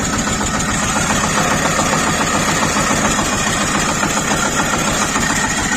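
A tractor engine runs loud and close with a noisy, worn belt tensioner roller, giving a steady, vibrating drone under a continuous whirring rasp.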